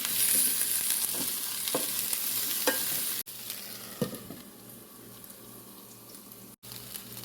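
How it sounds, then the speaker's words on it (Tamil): Onion and chopped okra sautéing in a pan for a Tamil okra varai, with a steady close sizzle, periodic scraping stir strokes and one brief break midway. "வெங்காயம் வதங்கினோடனே வெட்டி வச்சிருக்கிற வெண்டிக்காயை சேர்த்து கிளறி"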